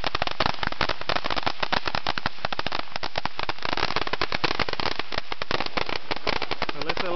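Fourth of July firecrackers and fireworks going off in a dense, continuous barrage of sharp cracks and pops, loud and close, with no pause across the whole stretch.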